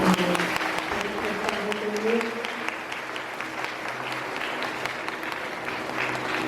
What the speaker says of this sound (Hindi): तो ताली बजाकर बच्चे जानकार